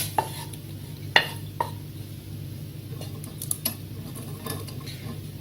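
Lardons cooking in a frying pan, a low steady sizzle under a few sharp clinks and scrapes of a utensil against the pan, close and without talk.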